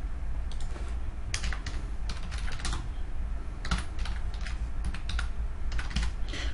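Steady clatter of a computer keyboard as a customer name is typed into a distributor configuration form, with irregular bursts of keystrokes over a low constant background hum, close and fairly quiet.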